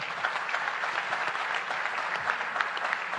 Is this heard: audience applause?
yes